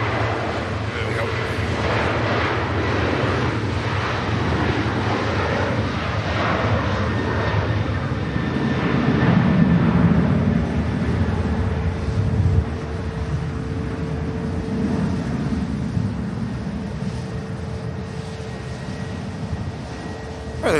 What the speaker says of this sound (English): Ryanair on the departure roll.